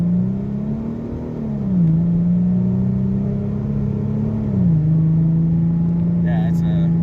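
A 2014 Ford Mustang with a 3.7 V6 and altered shift settings pulls steadily from inside the cabin, a droning engine note rising and then dipping at two firm gear changes, with a voice briefly heard near the end.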